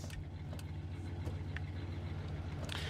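A car pulls up and idles in the video game Scarface: The World Is Yours, a steady low engine rumble running throughout with a few faint clicks above it.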